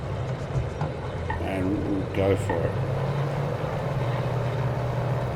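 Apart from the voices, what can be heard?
Fairey Swordfish engine revving in Microsoft Flight Simulator video game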